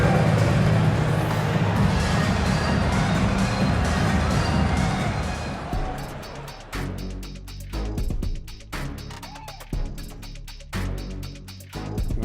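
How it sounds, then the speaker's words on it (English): Crowd noise fills a basketball arena during an NBA game between the Houston Rockets and Phoenix Suns after a fan's half-court shot attempt: dense, loud applause and cheering for about six seconds, then thinning into sparse, intermittent claps and thumps. "One more time, a round of applause for the participant."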